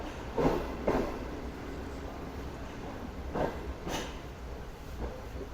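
A Pakistani express train, the Pak Business Express, runs through a junction at night without stopping, heard from on board as a steady low rumble with a few periodic clanks and rattles of the wheels on poor track.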